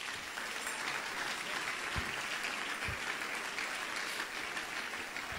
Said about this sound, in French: Vous pouvez casser, applaudis bon Dieu dans le ciel là.